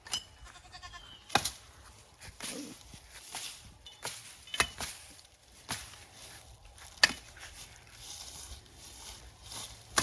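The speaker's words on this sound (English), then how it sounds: "Goats are coming along." Goats bleat while trail clearing goes on nearby. Faint calls sit under repeated sharp chops and rustling footsteps outdoors, and no one speaks.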